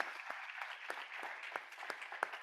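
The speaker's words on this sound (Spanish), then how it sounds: "Así que un aplauso para Manuel." Faint, thin applause from a small audience at a university business event for a guest speaker, with sparse, uneven claps rather than a dense ovation, heard at low level.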